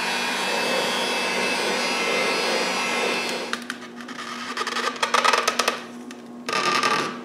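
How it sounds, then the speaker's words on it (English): A heat gun blows steadily on a 3D-printed part being reshaped, a loud continuous hiss that cuts out partway, leaving scattered clicks and handling noises before it briefly returns. "by heating it with a heat gun, I'm able to remodel it to the right shape"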